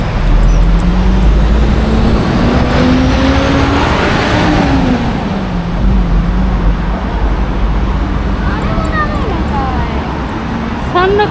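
Buses and general traffic on a busy Seoul street, a steady loud roadway rumble with engines droning and shifting pitch as vehicles pass, people talking over it throughout.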